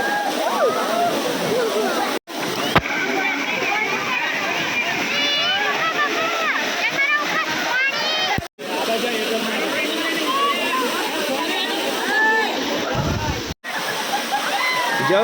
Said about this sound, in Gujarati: ઉપરથી મસ્ત પાણીયારીનો ધોધ પડે છે.